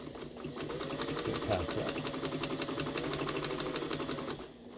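A Pfaff 130 sewing machine stitching steadily, its motor and needle giving a fast, even mechanical whir for several seconds, close and loud, with a brief spoken phrase over it.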